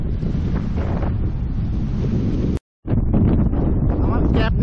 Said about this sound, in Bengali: ঝড়ো বাতাসের এত জোরালো শব্দ